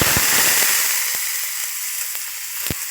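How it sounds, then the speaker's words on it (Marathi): Hot oil sizzles loudly as onion goes in over crackled cumin seeds, a dense hiss with scattered pops and crackles that settles slightly after a second. "जिरं तडतडलं की त्याच्यामध्ये कांदा टाकूया"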